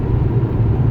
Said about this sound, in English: I just thought I'd throw it out there that the car is now running